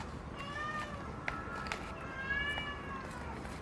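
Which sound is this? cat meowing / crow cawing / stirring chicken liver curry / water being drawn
cat meowing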